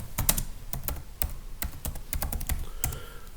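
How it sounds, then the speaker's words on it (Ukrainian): Keys clatter on a computer keyboard as a name is typed into Telegram's search field, a quick run of distinct close clicks with short pauses and no voices. "в пошуку пишемо Ботфазер"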